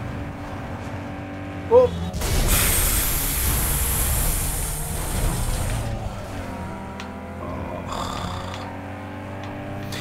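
Toyota Celica race cars roar through a Need for Speed Underground 2 street race, a loud sustained engine drone swelling after a brief exclamation and holding steady for several seconds before easing slightly.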